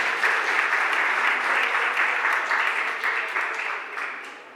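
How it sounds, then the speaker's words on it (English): Audience applause at a Philadelphia City Council meeting, a sustained, loud wash of many hands clapping together that slowly tapers off toward the end. "Give them a round of applause, y'all."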